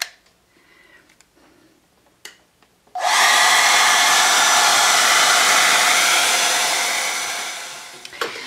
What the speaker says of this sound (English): Use a hair dryer to blow dry it so that it'll be nice and dry.